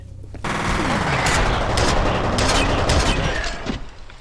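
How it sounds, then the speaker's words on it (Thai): A nail gun fires in the shooter game F.E.A.R., a loud sustained stream of rapid mechanical shots that starts abruptly and runs nearly four seconds before tapering off. "นี่เน่เอาปืนตะปูไป"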